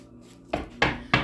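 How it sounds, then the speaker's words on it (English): Three quick, close card-shuffling slaps from a tarot deck, evenly spaced and crisp over a faint background hum. "One more shuffle."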